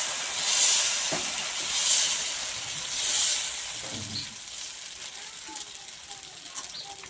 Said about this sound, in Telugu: మనం రెడీ చేసుకున్న పిండితో దోశలు వేసుకుందాం